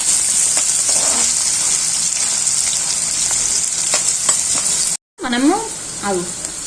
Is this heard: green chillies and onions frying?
yes